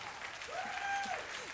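Applause from a concert audience at St Ann's Warehouse during a live show, a steady wash of clapping with a sustained keyboard tone gliding over it.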